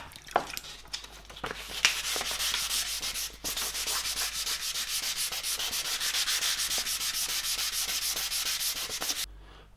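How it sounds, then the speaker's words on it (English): Fine 800-grit sandpaper rubs back and forth over a carbon bike frame in a fast, steady rhythm, close up, with no talking. "I have to sand the complete frame. I will use a grit of 800,"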